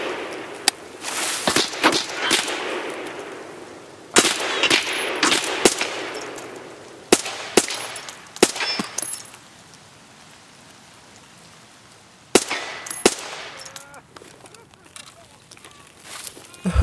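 Gunfire in the video game Escape From Tarkov: bursts of sharp shots and rapid automatic fire crack out over a steady rain-like hiss, with loud clusters and scattered single reports across the stretch.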